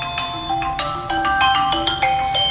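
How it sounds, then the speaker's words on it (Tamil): A phone rings with an incoming call, a bright electronic ringtone playing a repeating melodic pattern of distinct tones, loud and close with no talk over it. "நீங்களும் இப்போ தான் கால் ரிஜெக்ட் பண்றீங்க."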